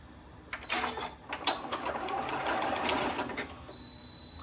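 A Continental M7 sewing machine stitches in a short whirring run, close and mechanical, then stops and gives a high electronic beep.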